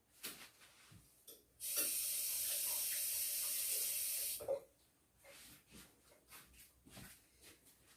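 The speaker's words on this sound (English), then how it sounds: "I just got this water out of my faucet" Water runs from a kitchen faucet in a steady, loud hissing stream lasting about three seconds, then shuts off, with soft handling noises around it and no speech.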